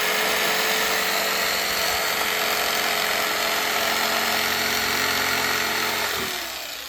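A loud, continuous power-sander drone runs steadily throughout, buzzing and hissing close up, then eases off slightly near the end.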